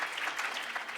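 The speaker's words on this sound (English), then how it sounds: "can we get a big round of applause for all of them?" A security-conference audience keeps up a brief, dense burst of applause for the organizing staff, even and sustained throughout, with no talk on top.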